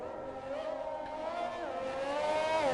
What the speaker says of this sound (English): See, really revving the car out there, trying to dump as much fuel as he can